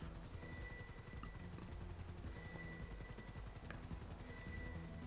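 A helicopter in the video game GTA Online whirs with a steady, continuous rotor drone throughout, loud and unbroken, with faint gunfire-like crackles mixed into the game soundscape.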